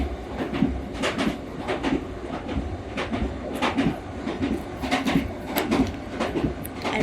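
Train rolling on rails heard from inside a carriage, a steady low rumble with irregular clicks and clacks from the wheels and cabin rattles, continuous and moderately loud with no voices.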